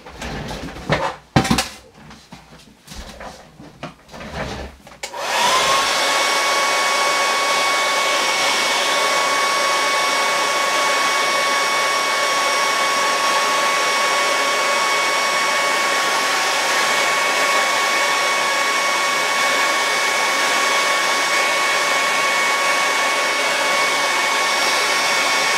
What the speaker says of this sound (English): which is using a hair dryer to dry things faster.